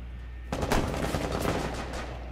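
A short, rapid burst of gunfire in the video game Rainbow Six Siege crackles out after a brief pause, several shots fired in quick succession, fairly faint overall.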